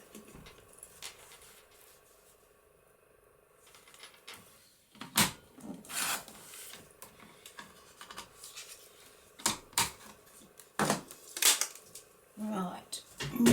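Paper cut with a trimmer or blade for a papercraft project: several short, crisp slicing and sliding strokes in a quiet room, close and moderately loud, interspersed with light handling noise.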